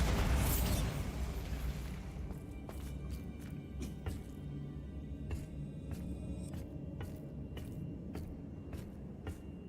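A Bombarda spell going off in a wizard video game, a loud booming burst at the start that fades into a rumbling tail, followed by faint sharp clicks and taps.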